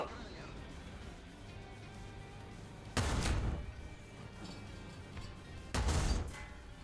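Gunfire in War Thunder: two heavy, booming bursts a few seconds apart over a low engine rumble, while someone talks.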